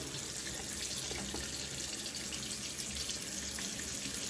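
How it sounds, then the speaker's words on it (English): Hot water runs steadily from a tap into a basin before a shave, making a continuous close hiss and splash with no speech. "So I'm going to throw some hot water in here, get this thing blooming"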